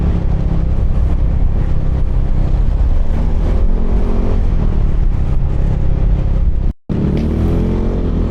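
A Yamaha Nmax 155 scooter fitted with a heavy 12x33 TDR gear ratio drones steadily as it accelerates up a hill, its close, loud engine note mixed with wind rumble, with a brief dropout near the end.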